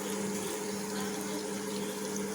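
Water pours steadily into a pot of vegetables for sambar, a faint, continuous rushing fill with no talk, lasting a couple of seconds.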